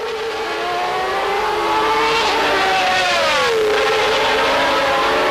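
Formula 1 cars race in 1992, with Riccardo Patrese chasing Gerhard Berger's McLaren: a loud, continuous high-pitched engine scream whose pitch rises and dips as the cars accelerate and shift.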